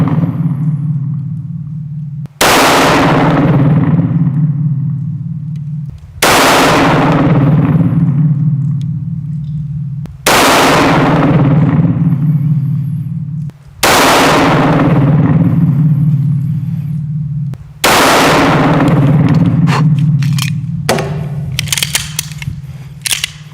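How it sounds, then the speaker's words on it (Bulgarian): A Staccato 2011 pistol fires 115 grain Blazer rounds at a measured pace, five sharp loud reports each trailing off into a long echoing decay, with faint clatter near the end. "Стреляме."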